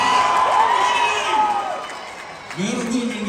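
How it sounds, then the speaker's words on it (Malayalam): A large crowd cheers and whoops at a public promotional event in Sharjah, loud and sustained, with scattered shouts and a rising swell of applause. "ഒന്നും കൂടെ ഒരു കൈയടി തരുമോ പ്ലീസ്?"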